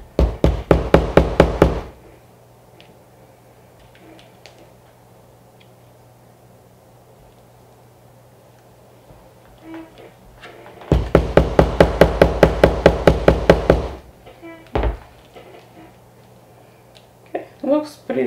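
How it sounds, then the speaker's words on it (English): A button is hammered into fabric: two bursts of rapid, loud hammer blows, about a dozen quick strikes each, separated by a long quiet stretch with a few scattered taps and handling noises. "if you can push it in at least a little bit to give it some stability and then hammer it in"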